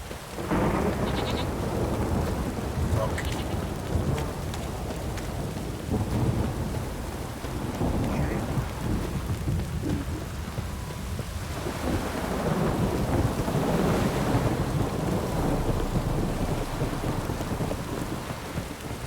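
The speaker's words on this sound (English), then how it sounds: "This downpour's a bastard." Steady heavy rain pours throughout with deep rolling thunder rumbling underneath, a dense continuous storm with no voices, from the video game The Witcher 3: Wild Hunt.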